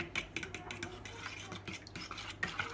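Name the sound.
egg yolks being stirred with an ordinary fork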